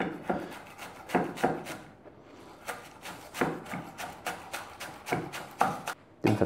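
Knife chopping fresh chives on a cutting board, a close series of quick, soft taps in irregular clusters with a brief pause near the two-second mark.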